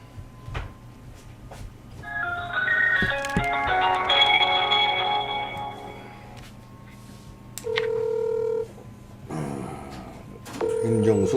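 A telephone call goes out. A short burst of dialing tones is followed by ringback tones, a repeated steady buzz with pauses between rings, heard close and alone.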